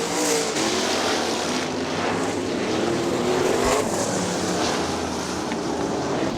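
Sprint cars race on the dirt track at Kokomo Speedway, their engines a continuous loud, rough roar with throttle rising and falling as the cars pass close by.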